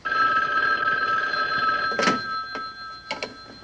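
Old telephone bell ringing close and loud in a continuous trill, followed by a few small clicks and knocks as the ringing ends.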